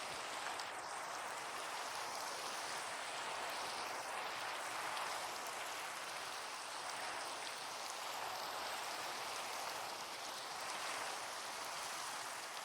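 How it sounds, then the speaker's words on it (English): Steady, soft rain falls all around in a continuous, even hiss of fine drops, faint and unbroken, with no voices. "I hope the rain sounds are starting to give you a very nice ambience as we explore."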